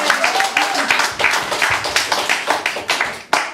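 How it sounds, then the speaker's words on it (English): Audience applause for a poet at a reading, dense clapping from a crowd, loud and sustained with some sharper individual claps near the end. "More applause for John Citizen."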